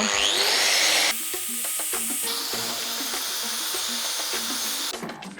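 A cut-off wheel grinds down a cracked, bug-infested log on a wood lathe, a loud continuous high whine with rough abrasive texture and small shifts in pitch, alone without talk.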